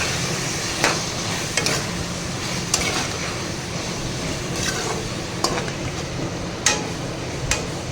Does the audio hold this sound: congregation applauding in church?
no